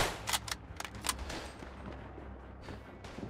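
Gunfire rings out in the World War I shooter Tannenberg. A few sharp shots come early, then a quieter stretch follows with distant rumbling and scattered reports, and no one talks.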